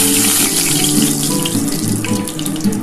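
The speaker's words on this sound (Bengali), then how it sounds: "আমি কিন্তু অল্প করে কালো জিরে ফোড়ন দিলাম" Black cumin seeds tempering in hot oil for a beetroot bharta, a loud, close, continuous sizzle and crackle with a steady hissing texture from start to finish.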